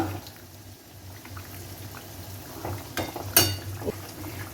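Rohu fish curry with eggplant bubbling in a pot over a high flame, a low steady simmer with soft bubbling and a brief louder splash near the end.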